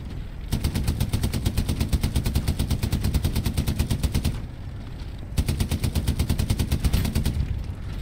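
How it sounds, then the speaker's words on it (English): An MG42 machine gun in Hell Let Loose fires two long, extremely rapid bursts at close range, separated by a short pause, with the dense rattle filling nearly the whole stretch. "Got an MG42 over here somewhere."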